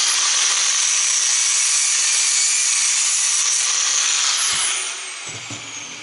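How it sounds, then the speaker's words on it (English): An angle grinder cuts scrap brass with a loud, continuous, high-pitched metallic whine that holds steady for several seconds, then drops in pitch and eases off near the end, close up with no talk. "The grinder's going to get loud."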